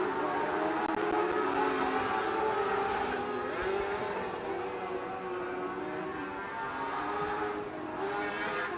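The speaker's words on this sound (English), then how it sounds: "Checkered flag coming out to finalize the Dwarf car hot laps." Dwarf race cars run hot laps at Silver Dollar Speedway, their engines roaring continuously at a distance with rising and falling revs as the pack circles the track.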